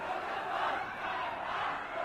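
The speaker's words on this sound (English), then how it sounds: "with the crowd hurling abuse and curses at them" An angry crowd facing a police force yells abuse and curses, a dense, continuous wash of many shouting voices at moderate distance with no single voice standing out.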